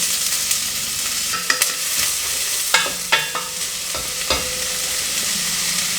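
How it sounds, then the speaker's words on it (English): Vegetables sauté in extra virgin olive oil over low heat, a steady soft sizzle broken by several sharp clacks and scrapes of a utensil stirring the pan, with no voices. "I'm gonna pour in some extra vierge olive oil to saute the vegetables on a low fire"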